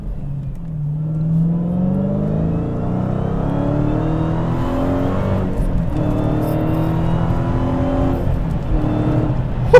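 A Dodge Hellcat engine revs up and accelerates steadily on a highway on-ramp, its pitch climbing through the gears, loud and close with a continuous rising drone.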